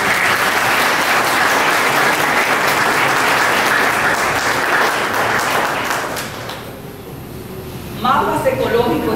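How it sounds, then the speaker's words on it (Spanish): Loud, dense applause from a crowd at a cultural event held by the town council of San José de Ocoa, sustained for several seconds before fading out, then a voice begins speaking. "Así un aplauso para ellos."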